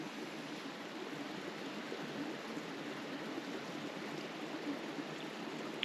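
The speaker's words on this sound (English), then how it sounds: "all I can hear is the brook" Soft, continuous rushing of a small stream trickling over stones, steady and fairly quiet with no other sounds.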